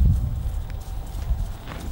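A horse walks through a paddock at Jäneda, hooves clip-clopping steadily on soft ground over a low, rumbling background.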